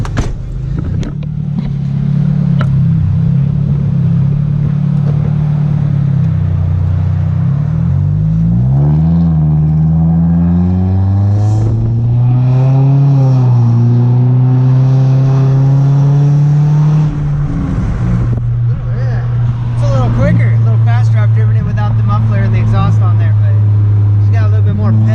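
A 2007 Nissan Sentra SE-R fitted with a cat-back exhaust drives off and revs, its deep droning exhaust note rising and falling through gear changes, loud and close, with a person speaking over it.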